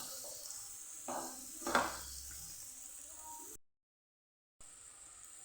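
Raw mango pieces are stirred in a cooking pan while frying for a summer Gujarati vaghariyu, with soft scraping and sizzling at moderate level, a brief louder clatter, then a short silence.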